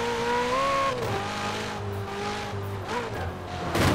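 An Alfa Romeo Giulia Quadrifoglio driven in Forza Horizon 4, its engine droning steadily close up as the revs rise and fall through gear changes, with a brief tire squeal.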